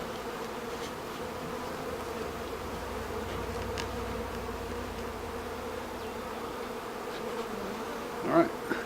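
Honey bees from a newly installed package buzzing in a hive, a dense, steady, close drone that holds throughout, with a brief louder knock near the end.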